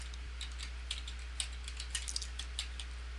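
Fingers tap quickly on a computer keyboard, a quiet, irregular run of soft clicks close up, with no voices.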